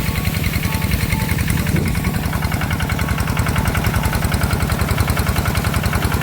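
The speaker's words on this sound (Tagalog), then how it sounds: "Pero hindi papatayin itong aking makina." A mid-sized engine runs steadily beside a fish pond, a loud close chugging idle with an even pulsing knock and vibration and no voices.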